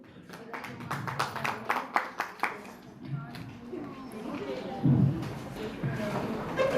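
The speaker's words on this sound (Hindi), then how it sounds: "आपको जोरदार तालियों से स्वागत" A scattered burst of hand clapping rises for a speaker at a women's empowerment function, a handful of sharp claps in the first few seconds, fading under murmuring voices and soft thuds.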